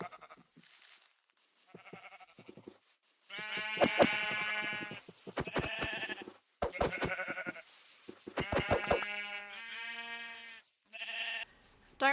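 Sheep in Minecraft bleating in short, separate calls, several in a row with brief gaps, fairly close and clear.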